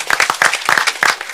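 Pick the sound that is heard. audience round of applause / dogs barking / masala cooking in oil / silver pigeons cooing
audience round of applause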